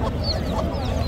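Rooster and hen with her chicks for sale at a Friday animal and bird market, clucking and crowing fowl noises blending into a dense, steady market din with no clear speech.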